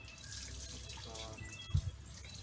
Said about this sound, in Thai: ก็เรามาเริ่มอาบน้ำกันเลยนะครับ